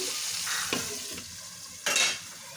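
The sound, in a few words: tomatoes frying in a covered pan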